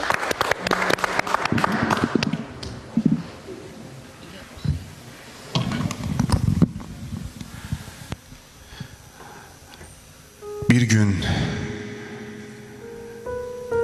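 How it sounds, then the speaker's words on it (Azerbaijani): A poetry-reading audience applauds a performer, with a burst of clapping at the start and another near the end, separated by quieter stretches of room sound and some talk. "Alqışlayaq Xəzər bəy"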